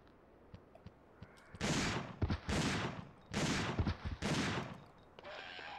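Shotgun fire in Dino Crisis 2, four loud blasts in quick succession, each a broad booming burst with a short tail, close and dominant over quiet game background.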